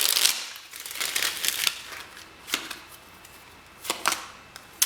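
A deck of tarot cards is shuffled in a few quick, crisp bursts of riffling and flicking, close and fairly quiet, with short pauses between them and no talk.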